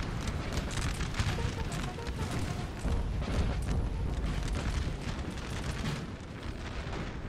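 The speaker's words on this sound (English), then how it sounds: "And the roll of musket fire is constant now." Massed musket volleys and cannon booms from a Napoleonic Total War 3 battle, a constant dense rolling crackle of gunfire with heavy low rumbles, steady and loud throughout.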